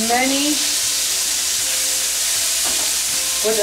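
Pineapple slices for tacos al pastor sizzle in a hot pan, a constant loud hiss of frying with brief faint clinks and the edges of a voice at the start and end.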